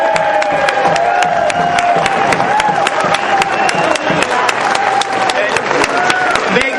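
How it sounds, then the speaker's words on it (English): Outdoor crowd at a political rally against in-state tuition claps steadily with scattered cheers and shouts, sharp individual claps standing out over the crowd noise, voices mixed in. "And give a round of applause to the legislators that are here today"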